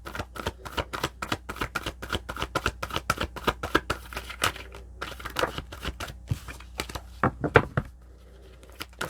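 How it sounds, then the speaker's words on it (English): A tarot card deck shuffled by hand: quick bursts of riffling, flapping card sounds, close and crisp, with brief pauses between and no talk. "one moment just to throw a little shuffle in here"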